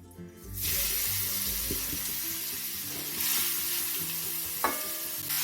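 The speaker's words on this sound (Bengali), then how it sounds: "এবার কড়াইতে আরও এক চামচ ঘি দিয়ে দেবো দিয়ে দেবো গ্রেট করে রাখা গাজর" Grated carrot hits hot ghee in a wok, bursting into a steady sizzle with scraping stirs and a clink of the utensil against the pan, frying continuously at close range without any talk.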